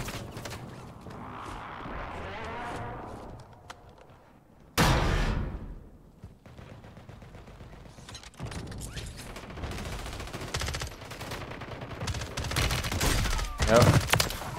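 Gunfire in Call of Duty Warzone: scattered shots and bursts of weapon fire, a sharp loud blast near the middle and rapid clustered shots toward the end, with quieter stretches between.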